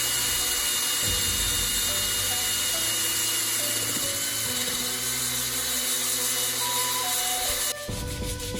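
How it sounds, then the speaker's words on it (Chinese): A power sander works over a handmade bamboo tissue box on its first pass, a steady loud whirring drone with shifting pitch that cuts off abruptly near the end. "然后我们进行第一次打磨， 把不平整的地方全部给它打磨平整。"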